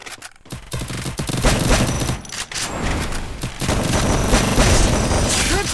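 Dense, loud bursts of automatic gunfire and rapid shots from a Free Fire Max squad match, nearly continuous with brief gaps and no voices.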